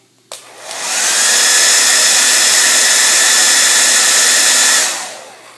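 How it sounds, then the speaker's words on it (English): A handheld hair dryer, nozzle removed, switches on sharply and blows as a loud, steady broadband whoosh for about four seconds before cutting off, used to heat nail wraps during an application. "So I've got my hairdryer, pop the end off, and do the same thing"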